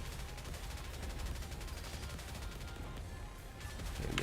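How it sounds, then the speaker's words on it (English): Dense, continuous bursts of rapid video game gunfire, a steady barrage of quiet automatic shots with no pause over about four seconds. "Okay, Amelia's fully reloading."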